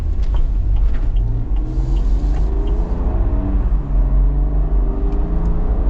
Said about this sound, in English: A little bit more tire noise, but it's not bad.